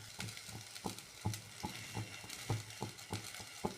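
Cauliflower and potato with poppy seed, sesame, salt and turmeric stirred in a pan, a soft steady sizzle under regular scraping strokes of a spoon, about ten strokes at an even rhythm, close and moderately quiet.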